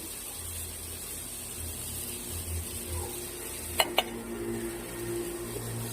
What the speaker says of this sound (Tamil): எல்லாமே நல்லா கலந்து விட்டுக்கலாம்.